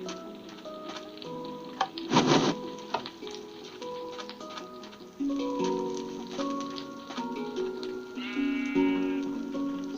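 Cartoon sheep in a video game bleating several times, each call a wavering tone, over a light ticking and game music, fairly close and clear, with no talking.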